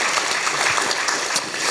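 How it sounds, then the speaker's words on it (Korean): Audience applause at a university lecture for students, a dense steady patter of many hands clapping, loud and close throughout. "박수 쳐주는 거예요."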